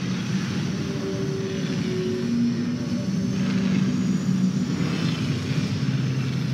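Starships in Star Wars Battlefront 2 drone past with a steady engine roar and whine, sustained and fairly loud throughout, with slow swells in pitch and no talking.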